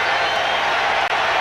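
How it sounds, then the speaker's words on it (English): A packed football stadium crowd roars in a steady, loud wash of noise on third down during a 1992 Green Bay Packers versus Cincinnati Bengals game. "Brian Noble urging the crowd to get into it now and make some noise on third down."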